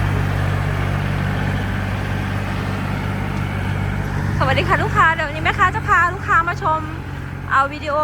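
A used Kubota L3208SP tractor, registered 2015 and recently repaired for leaks, idles with a steady low diesel hum throughout, while someone speaks over it in the second half.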